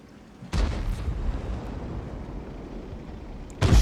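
Two heavy artillery impacts in World of Tanks land close to the tank. Each is a deep booming blast, and a rumbling tail fills the gap between them, with no voices.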